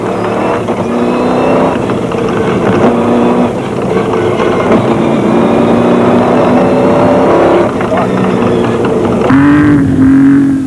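Off-road race trucks in the 2001 Carnival City 400, including a Nissan and a Ford Ranger, roar past with sustained loud engine drone and shifting pitch, revving up sharply near the end.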